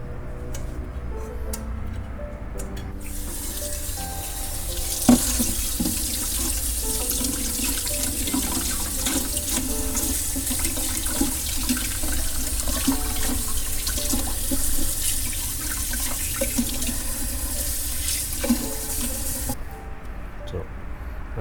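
A kitchen tap runs in a steady, loud rush while gizzard shad fish are rinsed under it, with small splashes and clinks throughout. The water starts and then cuts off near the end.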